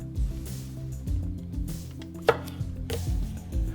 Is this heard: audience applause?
no